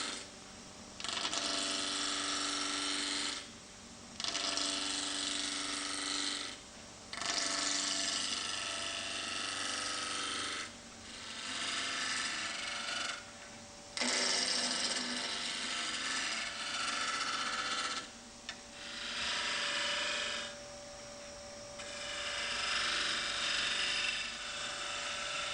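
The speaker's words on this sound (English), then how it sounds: "Switch on the lathe and turn the wood down to the round" Wood lathe spinning a blank while the turning tool rounds it down, a steady high whine with hissing, scraping cuts in repeated bursts of a few seconds each, separated by brief quieter gaps, fairly faint throughout.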